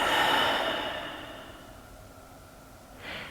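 A slow, relaxing breath during a gentle yoga session, a long soft exhale that fades gradually, followed by the start of another quiet breath; no talking.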